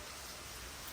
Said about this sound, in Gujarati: ફૂલ વરસાદ આવ્યો. વરસાદ જ વરસાદ છે